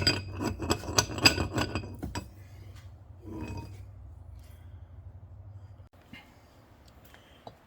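Hammering to drive a corroded plunger out of a Saginaw steering box: a quick run of sharp metallic clinks and knocks for about two seconds, then near silence with faint handling noise.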